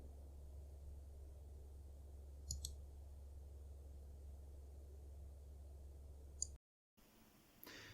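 A computer mouse clicks the green flag in the Scratch programming environment: two faint, brief clicks a few seconds apart over a steady low hum and hiss, with no talking.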